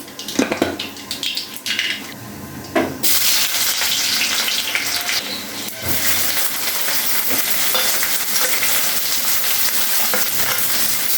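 Vegetables fry in white oil in a pan, a dense, steady sizzle that swells loudly after a few seconds and continues close by with occasional stirring clinks.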